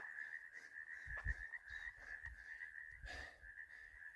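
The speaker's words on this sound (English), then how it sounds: "A lot of frogs out." Frogs croak in short low bursts at a high alpine lake, several clustered calls near the middle and another near the end, over a steady high-pitched insect-like whine.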